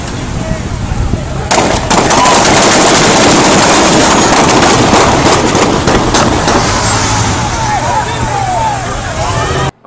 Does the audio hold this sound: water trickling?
no